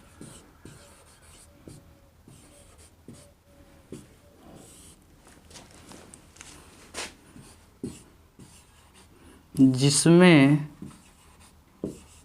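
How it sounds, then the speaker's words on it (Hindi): Chalk or pen writing out a chemistry definition by hand in a classroom lesson, with scratchy strokes repeating steadily under a teacher's continuous talk, and a louder burst of voice near the end. "इसको अब हम डिफिनीशन को थोड़ा लिखेंगे"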